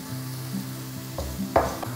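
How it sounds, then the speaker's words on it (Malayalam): Sliced onions and green chillies sauté in a pan of oil for a Kerala-style chicken curry, giving a faint, steady sizzle with a few soft stirring knocks and scrapes. "ഈ സവോളയും പച്ചമുളകും കൂടെ ഞാൻ ഇതിലേക്ക് ഇട്ട് കൊടുക്കുകയാണ്"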